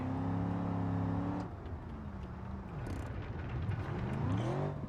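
A car engine in BeamNG.drive holds a steady harmonic drone, then shifts pitch and climbs again as the car slides through corners on a course, loud and continuous with no talk.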